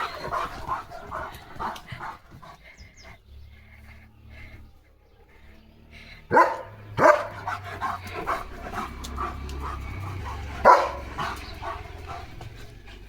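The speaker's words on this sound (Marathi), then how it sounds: "डॉगी लिओची ही पोज मला खूप आवडते" A dog close by, panting and whimpering with several sharp barks scattered through, loud bursts standing out over quieter background noise, in an onion field.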